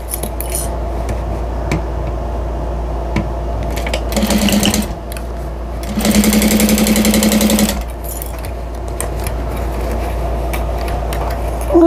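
A sewing machine stitches a market tote bag in two steady, whirring runs, one short and one longer, separated by pauses. A faint hum runs underneath throughout, and no one speaks.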